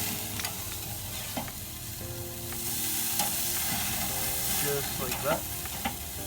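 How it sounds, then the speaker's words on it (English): A burger patty sears on a grill with a steady, close sizzle and hiss that swells slightly partway through, broken by a few utensil scrapes and light taps; someone speaks briefly. "just take your burger and just put it right on here and let that sear good"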